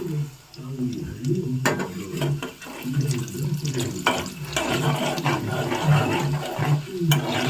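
Chana dal and urad dal frying in a pan for puliogare, giving a steady close sizzle and crackle with scattered sharper pops and stirring scrapes throughout.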